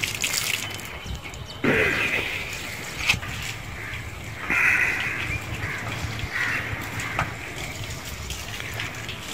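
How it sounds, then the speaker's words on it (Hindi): Water washes over and runs off tilted solar panels, with a continuous splashing rush that swells in several louder gushes, close to the listener and with no speech. "ये टिल्ट एंगल की वजह से सारा पानी जो है वो नीचे चला जाता है"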